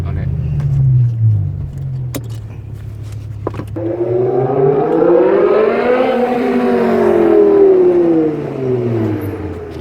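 A BMW E60 M5 with a V10 engine revs and drives past: a low, steady engine note climbs into a loud, swelling howl that peaks near the listener, then eases off as the car moves away. Voices can be heard at times.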